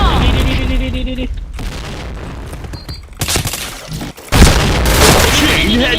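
Grenade blasts and bursts of gunfire in a PointBlank first-person shooter match, loud booming impacts and rattling shots that come in clusters, with a voice speaking through part of the action.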